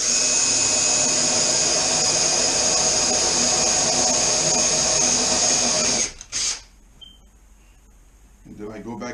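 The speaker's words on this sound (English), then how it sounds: "drill so it can be on a slight slant." A power drill with a 5/16 bit whines steadily at high speed for several seconds while drilling a slanted hole, then stops abruptly, followed by a short burst of drilling and quiet.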